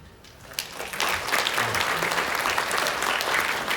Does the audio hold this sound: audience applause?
yes